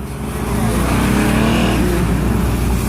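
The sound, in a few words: loud truck driving past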